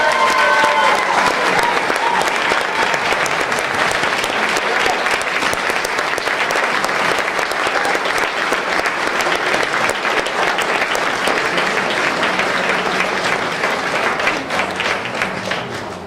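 Loud, sustained applause from a crowd honoring award winners at a ceremony, a dense continuous roar of clapping lasting throughout and tapering slightly at the end.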